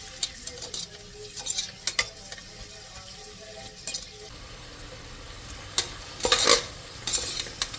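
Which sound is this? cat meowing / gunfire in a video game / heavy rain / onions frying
onions frying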